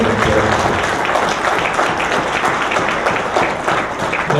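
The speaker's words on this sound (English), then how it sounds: "Give her a big round of applause." Loud, sustained audience applause at a diaspora conference opening ceremony, a thick even wash of many hands clapping close by for the whole stretch, no talking.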